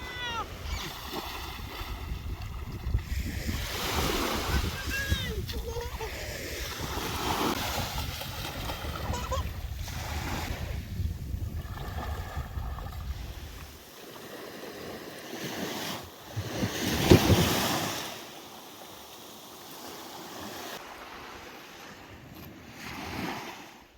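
Surf washing onto a beach at remote Middle Percy, a tropical island, heard as a broad, steady roar of waves mixed with wind buffeting the microphone, fairly close and continuous, easing toward the end.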